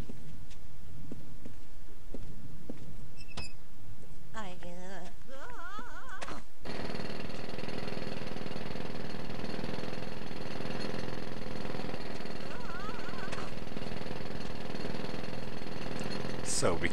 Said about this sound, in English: So, because of the drill, Granny's falling down.